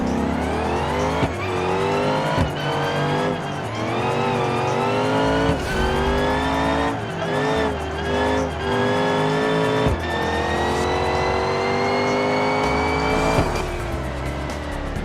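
A supercharged minivan accelerates hard around a race track, its engine revving loud and close with rising and falling pitch through gear changes, plus tire squeal through the corners, all with no talk.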